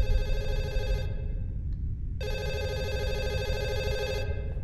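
A telephone rings in the horror game Fatal Midnight, two loud bursts of electronic ringing separated by a short pause, over a low rumbling ambience with no talk.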